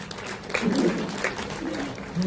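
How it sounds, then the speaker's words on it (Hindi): Audience at a Hindi comic poetry gathering (kavi sammelan) claps in a steady, moderately loud wash, with a voice talking over the applause throughout. "तालियां बजाइए, बड़ी बात है।"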